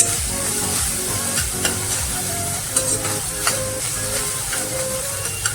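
Spices sizzle and crackle in hot oil as tempering is added to green masala chicken, with scattered stirring clinks and scrapes over a steady frying hiss.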